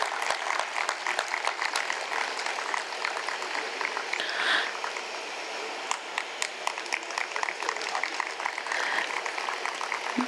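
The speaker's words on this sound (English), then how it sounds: "Please keep clapping." An audience claps at a literature festival, dense sustained applause that holds for about ten seconds with a few sharper individual claps standing out.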